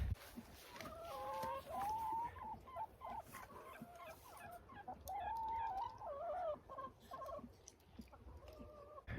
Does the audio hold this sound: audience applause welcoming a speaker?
no